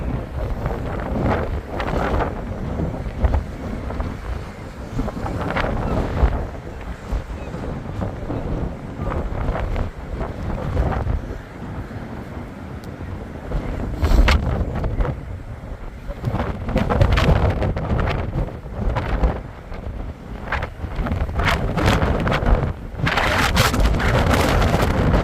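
Strong gusty wind roars across the microphone on a seaside promenade in Blackpool during a storm warning, buffeting in heavy bursts throughout with no clear speech.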